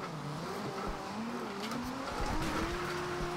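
Car in Forza Horizon 2 driving on a rain-soaked track, engine droning while tires squeal and skid in drawn-out slides, the pitch rising and falling as the car drifts through corners.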